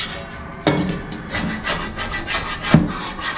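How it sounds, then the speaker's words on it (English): A drywall blade scrapes dried joint compound off metal corner trim in a series of rough, rasping strokes, close and fairly loud, with two sharper scraping hits standing out. "I'm just going to scrape stuff like that off."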